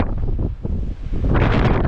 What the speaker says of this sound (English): it is bloody windy this morning